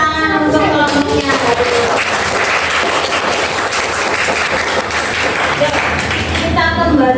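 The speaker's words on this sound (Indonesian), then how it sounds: "Tepuk tangan untuk kelompoknya." Schoolchildren in a classroom clap for the winning group after a tower-building activity, with dense, lively clapping and voices mixing in at the start and end.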